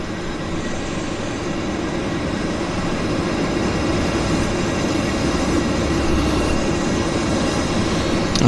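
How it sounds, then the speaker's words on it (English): Loud, continuous roar of jet aircraft engines at Vancouver airport, a steady broadband rumble that holds at constant strength throughout with no talk. "I hear some loud jet engines around me."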